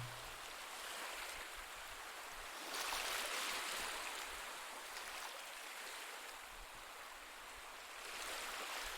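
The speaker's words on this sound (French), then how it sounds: "Alors que vous continuez par vous laisser bercer par le son mélodieux des vagues" Sea waves wash onto the shore in a continuous, soft hiss of surf, swelling gently every few seconds and fading back, distant and calm with no voices.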